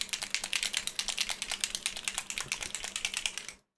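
Plastic paint dropper bottles with built-in mixer balls shaken hard, producing a rapid, even rattle of clicks and knocks close up, with no voices.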